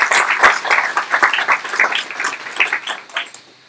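Audience applause at a NoVA UX meetup, a dense patter of hand claps lasting a few seconds and fading out at the end, fairly close and loud.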